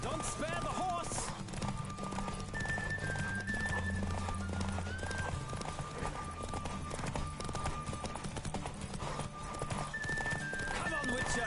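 Galloping horse hooves pound continuously in a Witcher 3 race, with a clear whinny near the start, set against music and someone speaking over the action.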